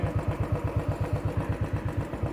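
A motorcycle engine thumps nearby in a steady, even pulse, a low rhythmic chugging like an idling or slowly rolling bike on the road, with no voices.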